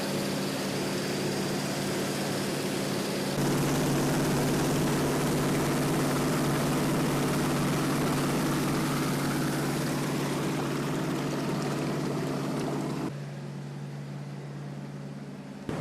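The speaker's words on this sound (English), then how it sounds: "You can get the sound of the engine where electricity is generated." Machinery hums inside a hydroelectric engine house where water piped from a dam turns the generators, a loud steady low drone with a strong tonal hum that steps louder after a few seconds and drops near the end.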